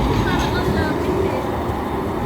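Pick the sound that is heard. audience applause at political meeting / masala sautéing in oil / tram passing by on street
tram passing by on street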